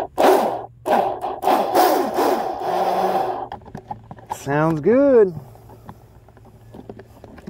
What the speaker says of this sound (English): Plastic boats give it a weird sound.